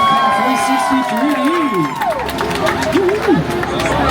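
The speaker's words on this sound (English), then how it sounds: "Make some noise for King Kong" Tour-tram riders on the Universal Studios Hollywood studio tour cheer and whoop for King Kong, a loud close crowd of excited shouts and yells layered over rumbling ride noise and a swooping pitched effect.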